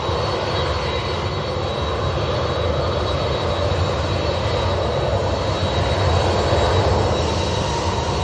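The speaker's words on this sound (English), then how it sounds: "Oh, it's a Ryanair that arrived." A Ryanair airliner arrives with a loud, steady jet roar that holds at an even level throughout and slightly swells near the end, with no talk.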